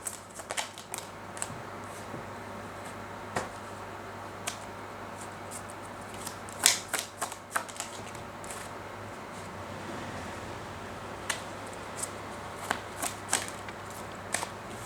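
Tarot cards are shuffled quietly in quick, irregular riffles and taps, close and soft over a faint hum, with no talking.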